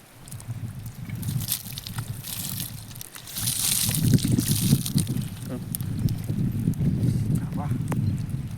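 Freshly caught fish are washed by hand in muddy water from a small pond, with sloshing and splashing that grows busier partway through as a person talks over it.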